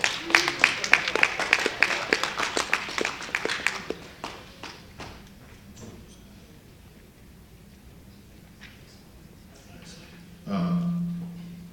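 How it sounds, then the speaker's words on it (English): An audience at a town hall meeting gives a burst of applause for a speaker, dense clapping for about four seconds that thins to scattered claps and fades, followed by a voice starting to speak. "Please give Mr. Mitchell a round of applause"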